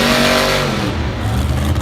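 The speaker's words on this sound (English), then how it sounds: "The truck seems to be stalling just a little bit, or popping just a little bit." A Monster Jam monster truck engine roars loud and close at a stadium event, with a rough, uneven revving tone that sputters and pops as it briefly loses power.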